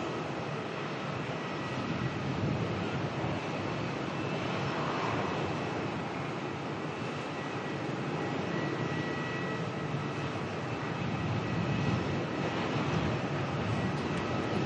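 Qantas airliner QF764 from Perth arriving at Melbourne Airport, a steady broadband roar of jet engines and rushing air holding loud and continuous throughout, with no speech.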